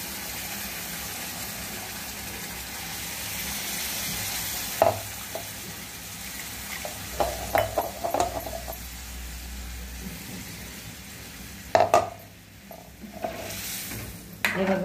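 Water from a rinsed mixer jar hits a vegetable dish frying in a hot pan over a full gas flame, giving a steady close sizzle with a few sharp clinks and stirring scrapes. No one speaks.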